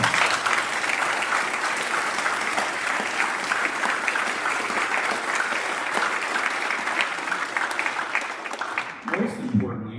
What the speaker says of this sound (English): let's give all those guys a round of applause